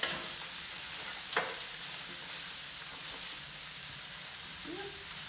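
Celery with carrots, broccoli and green beans sizzles in a pan over medium heat: a steady, close frying hiss with an occasional stirring scrape and a brief faint voice near the end.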